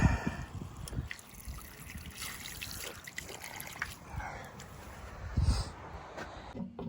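Water drains steadily from a Megaflow unvented hot water cylinder, a low, continuous trickle and gurgle close by with a few brief splashy surges and no talking.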